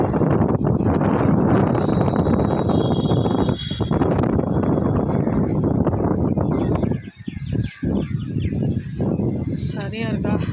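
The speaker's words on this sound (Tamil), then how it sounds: "பயங்கரமான காற்று" Strong wind buffeting the microphone outdoors, a loud, roaring rush that dips briefly toward the end before rising again, with a person talking through it.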